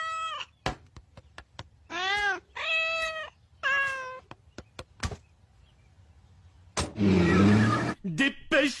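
A cartoon cat gives several drawn-out meows and yowls in quick succession, close and loud, followed by a harsher caterwaul, with brief knocks and background clatter between them.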